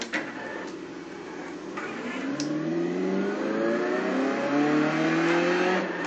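A car sets off on a lap, its engine note climbing steadily as it accelerates. The sound is loud and close from inside the cabin, over a constant droning hum.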